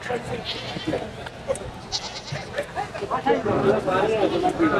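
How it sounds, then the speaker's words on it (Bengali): Goats bleat among a busy crowd at a goat market in Sonakanda, their calls rising over a constant murmur of voices and market chatter. "সোনাকান্দা বাজারের হচ্ছে এটা ছাগলের হাট।"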